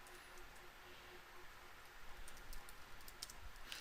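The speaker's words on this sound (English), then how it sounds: "I'm here typing my body of my letter of my mail" Computer keyboard typing in an office, a steady run of light clicks that grows a little denser toward the end, faint against a soft background hum.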